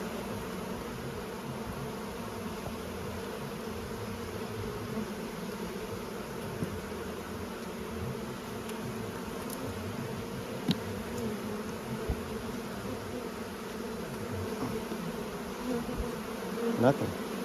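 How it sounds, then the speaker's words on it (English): Dense, steady buzzing of many honey bees at an open hive during a brood inspection in Ontario, a continuous close drone with small flickers of individual bees passing near. "Lots of bees."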